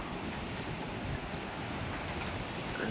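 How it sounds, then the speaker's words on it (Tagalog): Strong sea waves pounding during a typhoon, a steady loud roar of surf with gusting wind and no talking. "Sobrang lakas ng alon"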